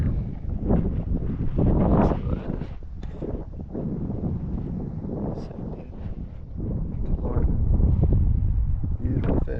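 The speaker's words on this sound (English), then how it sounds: "That wind is cooking." Wind gusts across open water beside a kayak off Bowman's Beach on Sanibel Island, producing a steady, loud low roar and buffeting that swells and eases throughout.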